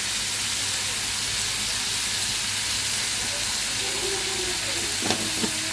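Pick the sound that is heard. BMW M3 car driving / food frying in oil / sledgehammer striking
food frying in oil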